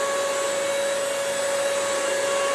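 A Bissell Crosswave floor cleaner runs in rug mode, a steady close motor whine with a strong tonal hum and airy suction noise, unbroken throughout with no talk.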